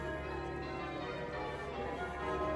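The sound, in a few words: church bells ringing at Chichester Cathedral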